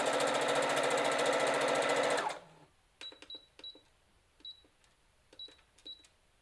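A Brother FS 40 sewing machine stitches fabric in a loud, fast, even whirring run for about two seconds, then stops. Several brief mechanical clicks and beeps follow close by.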